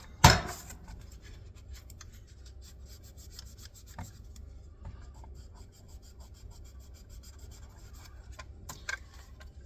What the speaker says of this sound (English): Scrape that off while it's still soft.